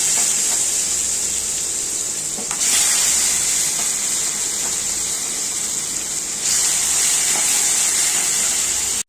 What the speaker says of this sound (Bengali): এখন হচ্ছে অল্প অল্প করে আমগুলো দিয়ে দেবো